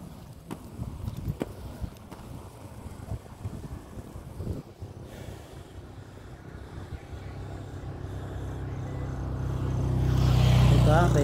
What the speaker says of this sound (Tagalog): Mabilis na motor.